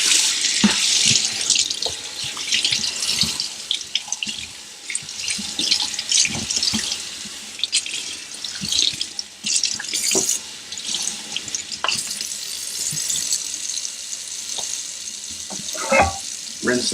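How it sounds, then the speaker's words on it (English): Tap water runs steadily while sandpaper is rinsed off at a sink during sharpening-stone flattening, a continuous splashing hiss with scattered clatters and drips close by. "So now I'm going to rinse the sandpaper off."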